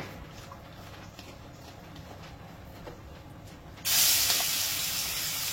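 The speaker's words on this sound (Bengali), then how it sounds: "খুব বেশি ভাজতে হবে না, হালকা করে ভাজলেই হয়ে যাবে" Prawns coated with salt and turmeric frying lightly in oil, a quiet background crackle that bursts into a loud sustained hiss partway through, with no talk.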